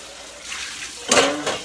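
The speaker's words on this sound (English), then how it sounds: "So I rinse it now." Dog food bowls are rinsed under a running tap: a short, close gush of water splashes and spatters after a quiet moment.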